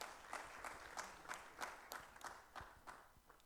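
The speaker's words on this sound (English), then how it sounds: "Another round of applause for Tom," A small conference audience at a technical session on power transmission claps for a speaker, sparse and faint with separate claps in an uneven rhythm, tapering off.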